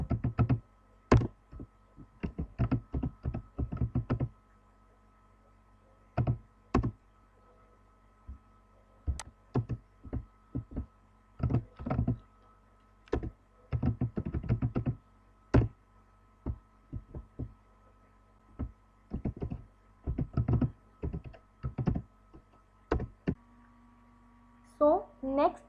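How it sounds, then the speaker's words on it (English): Bursts of clicky key taps from typing on a computer keyboard, coming in irregular clusters separated by quiet pauses, close and fairly soft. "with the help of keyboard we can type any data"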